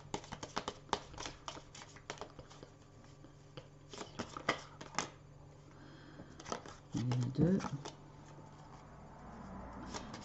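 Tarot cards spread out and drawn by hand produce soft papery slides, flicks and light taps scattered through the clip, with a louder brief shuffle near the end, all under steady French talk.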